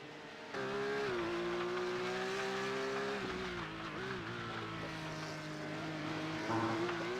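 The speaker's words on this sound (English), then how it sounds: "Larnack is now going into the pits. Manages to get it slowed down in time." A Porsche Carrera Cup race car at Sonoma drones steadily as it slows into the pit lane, engine note falling and flattening, with other engines audible nearby and a brief rise near the end.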